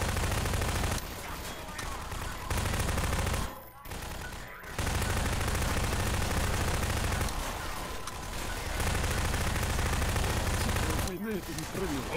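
Dense automatic gunfire in a Hello Neighbor mod played in Garry's Mod, rapid bursts of shots that come and go in several volleys with short gaps, while players talk over the shooting.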